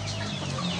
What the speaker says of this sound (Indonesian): jadi ini kita review ayam siamnya.